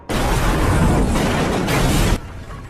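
A film scene where a sheriff's car and a shack explode under gunfire, heard as a loud, sustained roaring blast that rumbles for about two seconds before cutting off sharply.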